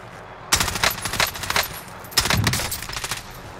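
Gunfire from Call of Duty Warzone rattles out in two loud, close rapid automatic bursts, each lasting about a second, separated by a short pause.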